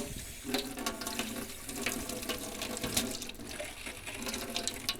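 Hot water tap aboard a 24-year-old Bayliner boat runs with air in the line, its stream sputtering and spitting in uneven bursts, close up and without talk.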